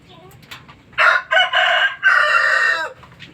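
A rooster crows in several loud, close, drawn-out bursts among breeding chickens, with soft clucking heard before and after the crows.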